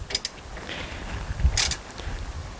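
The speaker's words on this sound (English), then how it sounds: "And then I'll use my wrench." A wrench tightens the bolts on a passenger swivel seat being fitted in a van, giving a few faint, sparse metallic clicks and ratcheting sounds against a quiet background.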